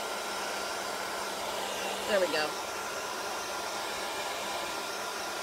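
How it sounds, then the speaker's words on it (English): A hair dryer hums and whooshes steadily throughout at moderate volume, while a voice speaks briefly partway through. "when I use ink and a hair dryer, I like to use mine on a cool setting"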